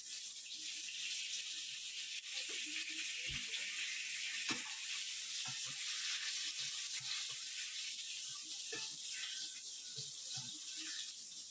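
Giant puffball mushroom slices frying in oil in a pan, a steady close sizzle throughout with occasional soft pops and crackles.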